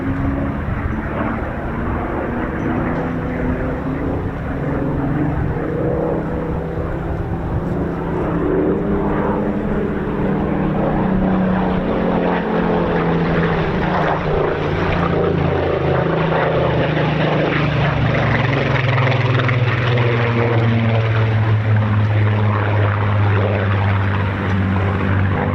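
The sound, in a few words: Spitfire propeller aircraft flying at air show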